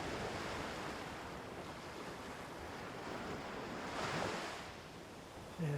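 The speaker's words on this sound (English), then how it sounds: "Okay, big volcanic beach, very black." Ocean surf rolls steadily onto a black volcanic sand beach in Bali. It is a continuous wash of breaking waves, mixed with wind buffeting the microphone and swelling slightly toward the end.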